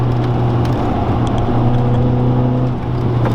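Honda Prelude VTEC engine droning steadily while driving, a constant hum with little change in pitch, heard from inside the car with no talk.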